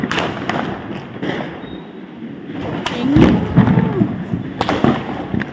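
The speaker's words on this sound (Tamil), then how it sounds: "எந்த பக்கம் திரும்பினாலும் பட்டாசு தான்." Diwali firecrackers pop and bang in sharp bursts across a residential neighbourhood, some close and some farther off, amid a steady crackling din outdoors.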